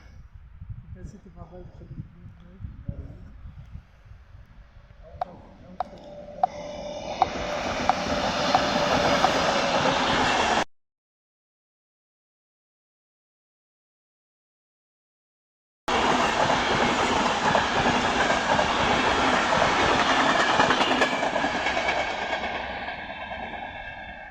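The Intercity Wawel train from Przemyśl Główny to Berlin passes through Tarnów station, a rumbling, rushing roar that builds up, broken by a gap of silence, then returning as a steady loud passing rush.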